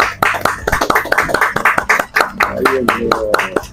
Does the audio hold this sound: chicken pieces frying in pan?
no